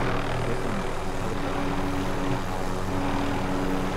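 Helicopter in Call of Duty: Modern Warfare, a steady loud rotor and engine drone that holds evenly throughout with no speech.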